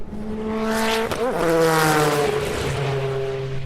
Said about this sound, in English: That was one of those Tom Walkinshaw Nissans, which raced here